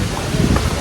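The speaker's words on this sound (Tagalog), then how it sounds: "Sobrang lakas ng hangin." Strong wind buffets the microphone outdoors on a road trip in San Juan, Batangas, a loud, constant roaring rumble across the whole short moment with no voices.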